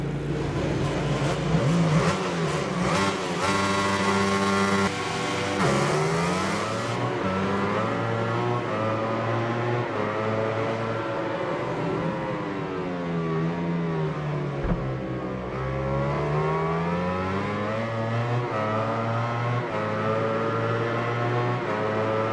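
Racing motorcycles on the Red Bull Ring grid in a MotoGP video game rev loudly before the Austrian Grand Prix start, several engines droning together in a steady roar with rising and falling pitch sweeps throughout.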